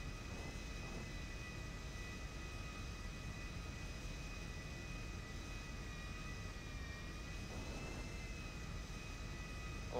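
Steady airplane engine hum in a flight game before take-off, a constant drone with a faint high whine, even and unbroken, no voices.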